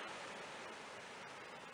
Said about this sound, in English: River's right there.